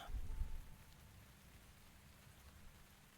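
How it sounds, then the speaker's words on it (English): Steady rain ambience from the cozy fantasy tavern game Tavern Talk, a soft continuous hiss with a low rumble at the start, quiet and even throughout with no voices. "Rainy day."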